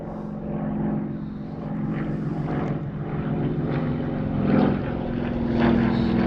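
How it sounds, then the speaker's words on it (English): Steady engine drone of planes, including F-18s, taking off and landing, a continuous low roar that swells slightly toward the end, with no voices. "That's not the reason all these planes are taking off and landing."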